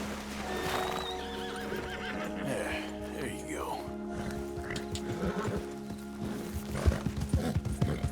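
A blue roan Nakota horse in Red Dead Redemption 2 neighs and snorts, with clip-clop hoofbeats that grow busier toward the end, mixed over steady game music and ambient tones.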